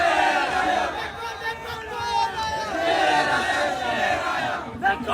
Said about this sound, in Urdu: آپ کی بھرپور تالیوں میں آپ کی محبت کے ساتھ